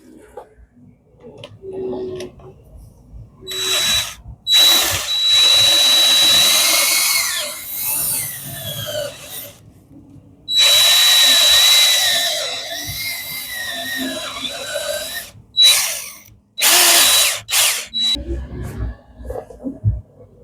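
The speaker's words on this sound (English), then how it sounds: "I drilled two holes, one there, one down here, and stuck a punch in there." A power drill bores holes during a workshop repair: close, loud whining bursts of several seconds each, separated by short silences and a few quick stop-start runs.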